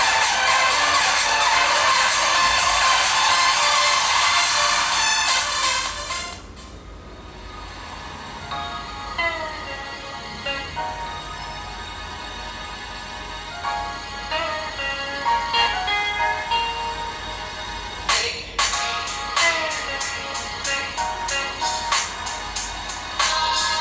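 Music sample played through the small speaker of an Andromax A budget phone: a loud, dense opening for about six seconds, then a quieter stretch with plucked notes and sharp rhythmic hits in the second half.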